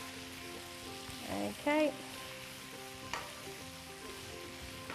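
Vegetables frying in a pan for chicken teppanyaki are stirred, giving a steady close sizzle with a couple of brief scraping stirs midway; a single short word is spoken.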